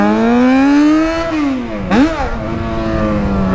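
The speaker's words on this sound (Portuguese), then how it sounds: "Ele vai escutando o barulho do 4-1 lá dentro da moto dele." Motorcycle fitted with a 4-1 exhaust, its engine droning loud and close, pitch climbing steadily, dipping sharply, then surging back up as it revs again.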